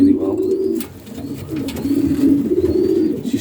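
Young racing pigeons under a year old coo in a loft, low rolling throaty calls repeating steadily, close and fairly loud, with faint higher chirps from other birds.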